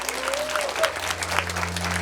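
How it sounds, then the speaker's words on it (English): Audience members at a comedy hypnosis show clap under a steady low electronic hum, the applause fairly even with a few whoops or sliding tones riding over it. "So give them a big, nice round of applause on 1, 2,"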